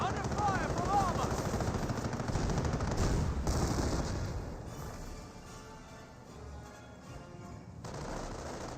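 Rapid gunfire and explosions in the real-time strategy game Company of Heroes during an armor attack, loud bursts and rattling shots in the first half that fade to a quieter battlefield rumble.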